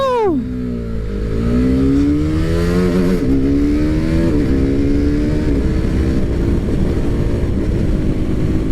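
A motorcycle pulls away hard, its engine pitch sliding through gear changes in a loud, close, continuous roar.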